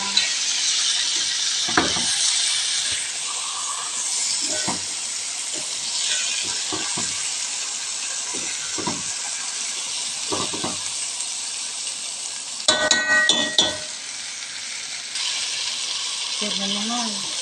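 Chicken cooked with 7up fries in a pan after being turned over, giving a steady close sizzle broken by scraping stirs and clinks, with a voice talking over it.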